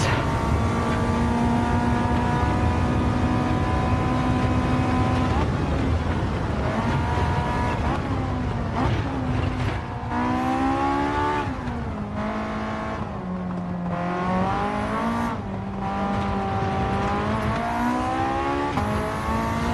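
A race car engine in Gran Turismo 7 roars close and loud, revving high then dipping and climbing again as the driver lifts off and reapplies power through corners, with no voices.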